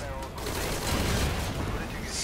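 Video game explosions and gunfire, a dense continuous barrage of rapid shots and blasts at steady loudness, with no clear gaps.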